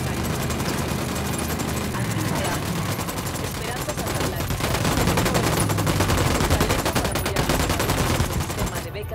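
Sustained automatic gunfire fills a firefight in Ghost Recon Wildlands, heavy overlapping bursts rolling steadily and loud, with some voices mixed underneath.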